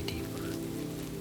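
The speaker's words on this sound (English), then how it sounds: "rain tapping gently on a window beyond" Rain tapping softly on a window on a rainy night in Vienna, a dense, even patter with a low steady hum beneath, no voices.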